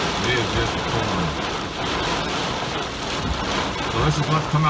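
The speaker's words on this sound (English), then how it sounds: "It is just pouring." Heavy thunderstorm rain pours down outside a truck, drumming steadily and densely on the roof and glass from up close, with a brief low rumble near the end.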